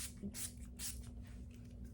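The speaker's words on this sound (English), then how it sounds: "I throw on my Urban Decay All Nighter Setting Spray" Urban Decay All Nighter setting spray misted onto a face in two quick, soft hissing bursts close to the mic, with a low steady hum underneath and no talking.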